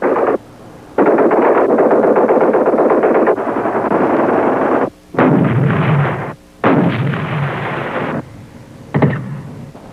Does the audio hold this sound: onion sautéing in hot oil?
no